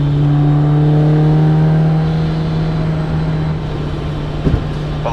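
Honda S2000 engine cruising steadily in sixth gear, a low continuous drone with a slight fade partway through and a brief knock near the end; no talk over it.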